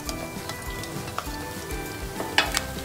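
Whole spices and coriander seeds sizzle in a spoonful of hot oil in a pan, a soft, close crackling hiss dotted with small pops and spits.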